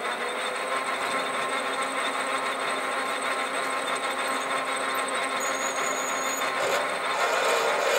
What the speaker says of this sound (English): Okay, just gonna drill a hole into it now.